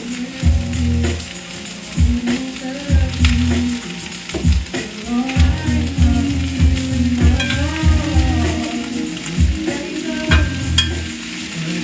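Butter sizzles and fries in a hot pan, giving a continuous crackling hiss with stirring scrapes and small clatters throughout. Faint background music runs underneath.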